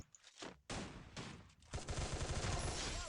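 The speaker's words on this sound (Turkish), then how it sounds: "Yalandan ne almışsın pompalı çatıdan sıkıyorsun" A shotgun fires from a rooftop in the video game Free Fire, heard as quiet, distant reports. Several sharp blasts and crackling bursts follow one another over a few seconds.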